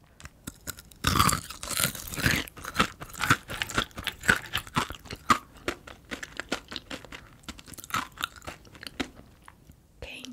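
Kohakutou jewel jelly candy being bitten and chewed up close, a dense run of crisp, crackly crunches with small brittle snaps, alone and with no talk.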